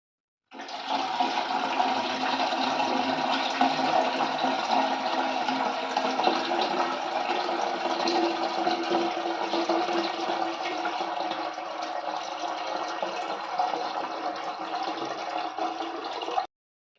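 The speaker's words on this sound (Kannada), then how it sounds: "ಇವಾಗ ಹುಣಸೆಹಣ್ಣು ಮತ್ತು ಬೆಲ್ಲವನ್ನು ಸೋಸಿ ಹಾಕ್ತಾ ಇದ್ದೀನಿ" A long, steady gush of tamarind and jaggery water streaming through a strainer into a vessel, loud and continuous, then stopping abruptly.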